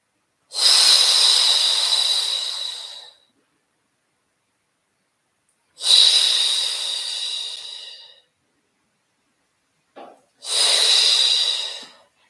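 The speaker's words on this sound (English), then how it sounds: "Inhale for a long count of 5, exhale for a long count of 5." Three slow, deep breaths drawn during a yoga session, each a long airy rush of about two to three seconds with steady pauses between, close and clear with no talking.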